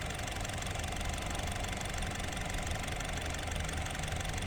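A 2018 Honda Brio E with CVT automatic idles steadily, a low, even engine hum with a regular rhythm and no voices.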